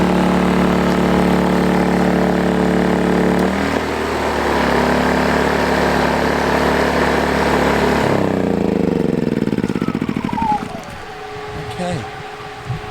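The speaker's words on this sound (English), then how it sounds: "Okay, there's the generator running," A generator runs outdoors with a steady, loud engine drone and harmonic hum, sharing the air with an air conditioner; around eight seconds the engine note changes and winds down as it is switched off, leaving a quieter hum.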